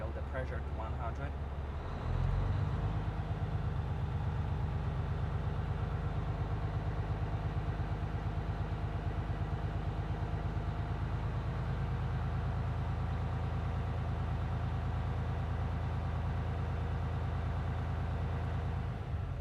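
A tractor-trailer truck's engine runs at a steady idle to build air brake pressure, a close, continuous low rumble with a clattering texture that shifts slightly after a couple of seconds and then holds unchanged.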